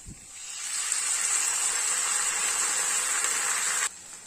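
Vegetables sauté in a pan for a beetroot masala dosa filling, giving a loud, steady sizzling hiss that runs for several seconds before dropping off abruptly near the end.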